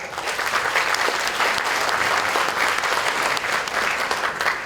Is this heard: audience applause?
yes